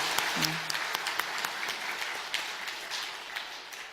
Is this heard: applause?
yes